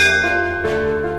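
A school bell rings loud and close, with bright metallic partials that hang and sustain through the short moment with no voices.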